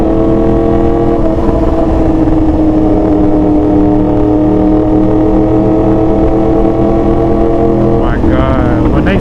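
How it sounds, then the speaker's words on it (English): Two cross-plane engines with new exhaust run together, a loud deep throbbing rumble with layered droning tones, steady and close, shifting slightly near the end. "Two cross-plane engines together"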